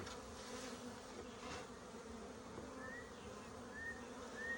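Worker honeybees buzz steadily around a five-frame nuc during a frame transfer, a dense close hum with no talking.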